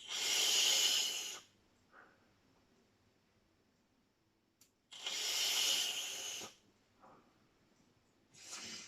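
Vapour is exhaled from a ManVap BeeBle 150W vape kit running at 150 watts, sounding as long, close, breathy hissing puffs, roughly three of them, separated by quiet pauses with faint inhales.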